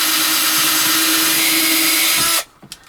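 An electric drill with a loose bit bores a hole in wood, a loud steady whine and grind that cuts off abruptly near the end, leaving a few faint knocks.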